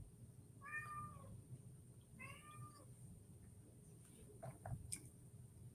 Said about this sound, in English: I don't know if you guys hear the subtle meows in the background